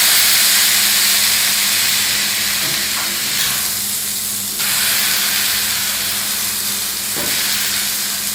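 A burger patty seasoned with black pepper sizzles loudly and steadily on a hot grill as it is pressed down, the hiss swelling briefly a few times and continuing without pause.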